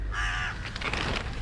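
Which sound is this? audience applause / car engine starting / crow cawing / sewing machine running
crow cawing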